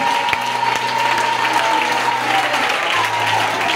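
A church congregation claps and cheers together during a service, a loud, continuous roar of hand claps with crowd noise and a steady droning tone underneath.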